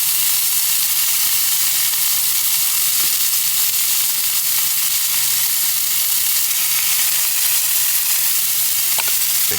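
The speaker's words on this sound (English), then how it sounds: "I'm gonna get that butter on, let it melt over the top." Butter melts and sizzles in a hot pan over food while camping on a mountain in heavy rain, a loud, continuous frying hiss that holds steady throughout with no talking.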